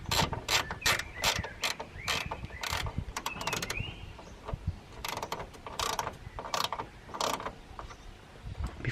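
Bolts on a radiator bracket in a Subaru Impreza STI engine bay are tightened with a ratchet, giving quick bursts of close clicking with metallic handling and clunks in between.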